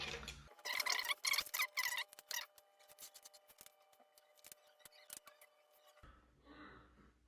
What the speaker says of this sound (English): It is time to take all the caps off